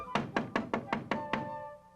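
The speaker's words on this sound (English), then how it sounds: "Then, a harsh knocking cut our celebration short." Harsh knocking on a door: seven firm, evenly spaced knocks, close and distinct, ringing briefly before fading into quiet.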